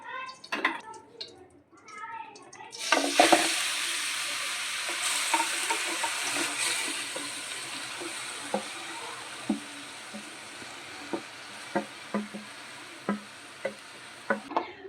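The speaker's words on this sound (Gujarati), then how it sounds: "હવે બીટને સોતળી લેશું આપણે।" Beetroot sautéing in a pan for a beet and date barfi, with steady sizzling and frying hiss and a run of light, regular clicks and scrapes from stirring, close up.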